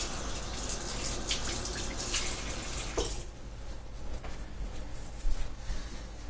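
Water runs steadily from a tap while a wooden Scythian bow recurve, freshly heat-bent, is cooled under the stream. The close, hissing flow continues with small splashes and drips and no speech.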